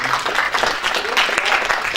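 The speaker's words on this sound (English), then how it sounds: "give a round of applause to Samuel" An audience at a software conference claps steadily and fairly loudly throughout, a dense, continuous patter of many hands with no voices standing out.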